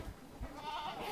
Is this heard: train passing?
no